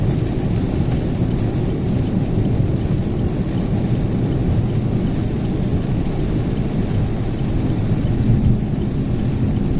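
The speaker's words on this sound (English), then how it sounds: "Great, and the rain's back." Heavy rain pours continuously with low rumbling thunder underneath, a dense, loud, steady wash of sound with no voices.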